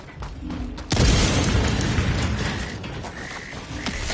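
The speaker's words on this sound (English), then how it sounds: "Throwing grenade!" A single loud grenade blast in Helldivers erupts about a second in, leaving a long rumbling decay over faint background game sounds.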